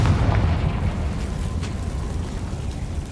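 The Confringo fire spell exploding in Hogwarts Legacy, a loud, dense rumbling blast that fills the whole stretch and slowly fades, with no voices.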